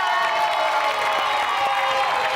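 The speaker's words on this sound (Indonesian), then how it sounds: "Kita berikan tepuk tangan untuk penampilan" A studio audience on the Indonesian dating show Take Me Out claps and cheers, a steady, dense wash of applause and shouting that holds at the same level throughout.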